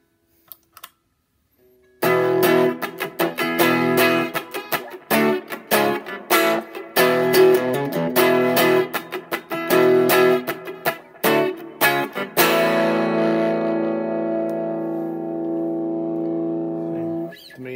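Strummed electric guitar played through a cigar box amp, with a crunchy, lo-fi amplified tone, played in choppy bursts before a final chord rings out and fades.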